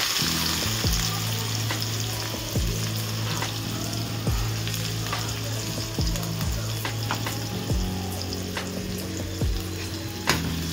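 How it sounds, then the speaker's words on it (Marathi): Onion dropped into hot oil with garlic already browning in a pan sizzles steadily up close, punctuated by sharp pops and stirring clatters over a low hum in the background. "आता त्यात आपण कांदा घालूया।"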